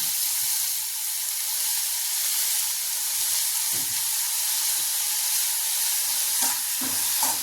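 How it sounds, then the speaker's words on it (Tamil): Pirandai (adamant creeper) sautés in a pan with salt, a continuous bright sizzle hissing throughout, with a few soft scrapes and stirring knocks near the end and no talking. "நல்லா சுருள வதக்கி அதுவும் பொன்னிறமாக ஆனாலும் எடுக்கணும்"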